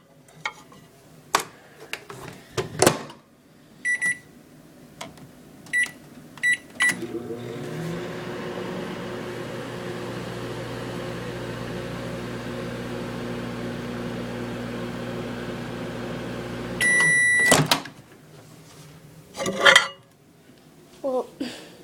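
A microwave oven heating a banana runs with a steady low hum for about ten seconds, then finishes with beeps, with clatter and knocks of handling before and after.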